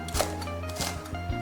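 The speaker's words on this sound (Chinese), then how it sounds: "再来切一点青红椒段。" A knife cuts green and red chili pepper segments on a cutting board, giving several soft, evenly spaced taps close by, faint and without any voices.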